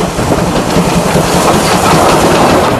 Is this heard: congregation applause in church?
no